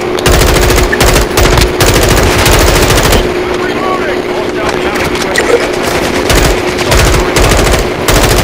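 Loud, rapid automatic gunfire in Call of Duty: Modern Warfare II multiplayer, sustained bursts with short breaks and a gap near the middle, with voices talking over the shooting.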